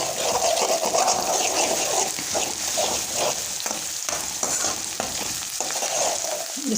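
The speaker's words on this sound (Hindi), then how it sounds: "इसको मैं ब्राउन कर लूँगी प्याज को" Onions browning in a hot pan for sarson saag, a steady loud sizzle with the scrape and clatter of stirring throughout.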